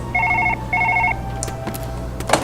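A telephone rings in the video game Surgeon Simulator 2013: two loud, clear bursts of an electronic ring, followed by faint clatter and a soft knock.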